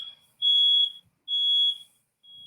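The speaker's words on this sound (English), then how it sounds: "That sounds like my fire alarm." A home smoke or fire alarm goes off with three loud, piercing high beeps in a row, separated by short silences, close by and alone.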